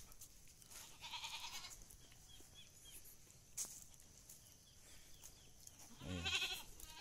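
Goats on a calamansi farm give two drawn-out bleats, one early and one near the end, fairly faint over quiet outdoor background noise with a single sharp knock between them.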